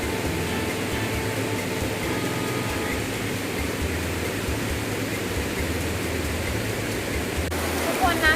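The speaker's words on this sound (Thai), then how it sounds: "น้ำไหลแรงด้วย" Steady, strong rushing of flowing water fills the whole stretch, loud and continuous, from a fast stream beside a campsite in Nakhon Nayok.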